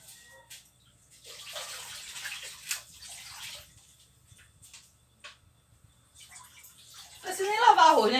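Water from a kitchen tap is drawn for washing rice, starting as a faint intermittent trickle and growing into a louder steady gush toward the end, with occasional background sounds.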